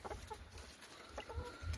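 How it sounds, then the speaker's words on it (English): Chickens clucking outdoors on a farm in early spring, short soft clucks scattered over a quiet background with a couple of louder low calls near the end. "Hey, Mr. Chickens."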